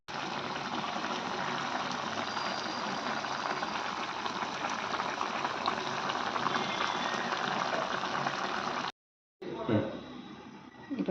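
Quail gravy simmering and boiling down in a pot, a steady bubbling hiss that fills nearly the whole stretch, then drops out briefly before resuming with some clatter near the end.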